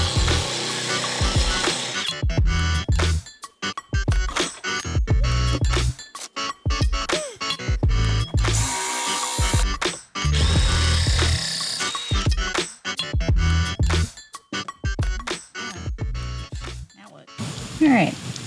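A power drill bores holes through bathroom tile in repeated loud, close bursts separated by short pauses, and a voice is faintly heard near the end.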